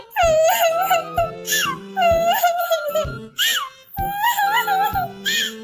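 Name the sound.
crying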